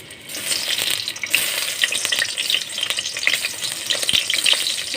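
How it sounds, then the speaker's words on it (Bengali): Plantain slices fry in oil with a loud, steady crackling sizzle that holds throughout, dense and close, with no one talking. "সুন্দর কলাটাই আগে ভেজে নিই মাছটা পরে ভাজবো একটা কলা তো আগে ভেজে নিই"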